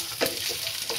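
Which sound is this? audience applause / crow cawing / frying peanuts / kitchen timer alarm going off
frying peanuts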